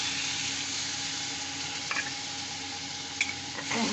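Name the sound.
water added to sizzling spices in frying pan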